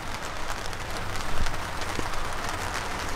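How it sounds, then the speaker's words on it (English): Steady rain falls outdoors in Washington, a dense, even hiss of drops on surfaces that runs through the whole stretch without a break. "it's, you know, raining and it do that in Washington a lot."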